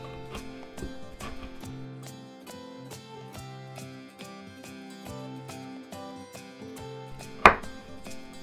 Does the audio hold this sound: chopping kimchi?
yes